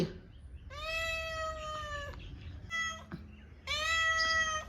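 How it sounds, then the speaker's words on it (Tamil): A cat meows repeatedly for food at home, three long, loud, close cries with a short pause between them and quiet background in the gaps. "பூனாச்சி திலகா இந்த பூனைக்கு கொஞ்சம் சா பால் ஊற்றிப்பா"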